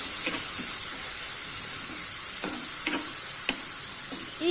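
Ginger garlic paste and spices sizzle in hot oil for a matar paneer curry, with a steady bright frying hiss broken by occasional scrapes and clicks of a spoon stirring the pan.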